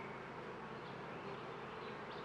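Honeybees drone in an open hive during an inspection, a soft, even buzz that holds steady and close with no voices.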